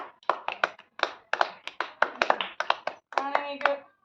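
A small group of friends claps for a first-prize winner after a fun game, sharp uneven claps arriving in quick clustered bursts, close and fairly loud, with a few voices mixed in.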